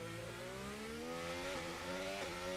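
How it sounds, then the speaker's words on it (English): Race car engine in the F1 25 video game, a steady high-pitched whine with a rising, slightly stuttering tone as the rear wheels spin under acceleration, loud and continuous with no voices. "That when you hear the engine go brrrr, that's because I'm getting wheel spin at the rear."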